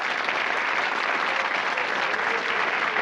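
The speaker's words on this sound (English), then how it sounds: "So a round of applause, please, for Sarah Northcote." Steady applause from a TV game show studio audience, even, continuous clapping at moderate level throughout the short stretch.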